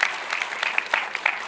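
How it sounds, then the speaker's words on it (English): Audience at a game awards ceremony in New York breaks into brisk, dense applause that fills the room and carries on steadily from start to finish. "it's okay to clap"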